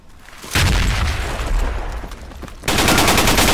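A frag grenade blast and automatic gunfire in the tactical shooter game Project Reality, loud sustained booming and rattling bursts that surge again after a brief dip, with no talk.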